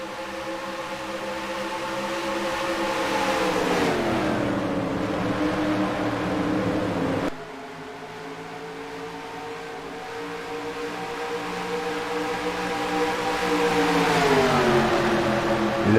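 Race cars at Charlotte Motor Speedway in the NASCAR Racing 2003 video game drone continuously, engine pitch sweeping down and up as a pack passes, with a sudden cut midway, and no talk.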